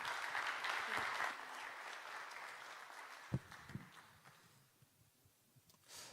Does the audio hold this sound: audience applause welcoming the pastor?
yes